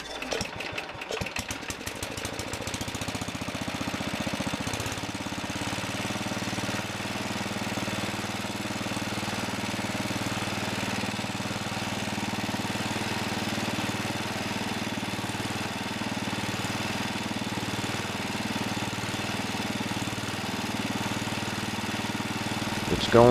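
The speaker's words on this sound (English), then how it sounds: "I'm gonna start the engine and see what happens." Kohler engine cranking to a start and then running steadily at idle while its Delco Remy voltage regulator is being tested, a loud continuous mechanical drone that persists to the end with a sputtering start.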